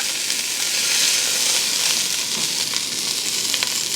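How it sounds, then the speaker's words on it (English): Short ribs searing in a hot pan, a loud, dense, steady sizzle and spatter close up for the whole stretch, with no talking. "Hot pan means a good sear."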